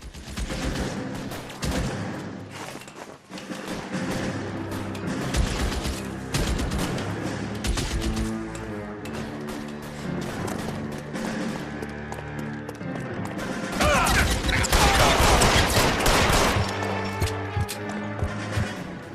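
Gunfire in the video game L.A. Noire, a busy shootout with repeated shots over continuous game music and action noise, growing louder and denser toward the end.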